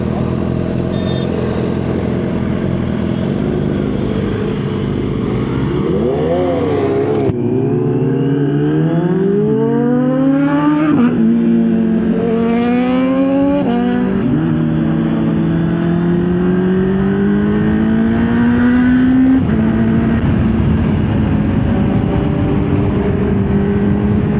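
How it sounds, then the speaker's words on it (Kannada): A BMW S1000RR superbike engine revs hard, its pitch climbing and dropping in repeated surges over a steady roar before it passes by, loud and close with no voices. "S1000RR ಕ್ರೇಜಿ ಗಾಡಿ ಗುರು."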